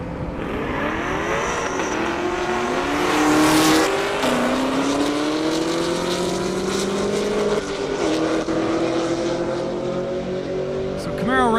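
Camaro drag cars launch on an airport airstrip at a high-speed drag racing event, their engines roaring and rising in pitch through the gears, loud and close, with a commentator talking over them.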